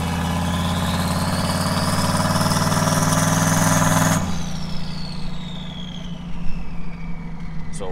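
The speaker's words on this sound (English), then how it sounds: "I'll go full throttle up to about 2500 RPM" Vehicle engine pushed to full throttle, climbing steadily to about 2500 RPM with a rising whine and heavy drone, then abruptly backing off to a lower, quieter running note, close and loud throughout.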